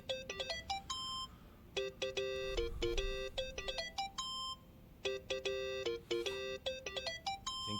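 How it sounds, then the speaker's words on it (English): A mobile phone ringtone rings in the video game Yakuza: Like a Dragon, a bright repeating electronic melody of rapid chiming notes that plays clearly and loudly across the whole stretch. "that's your phone, man."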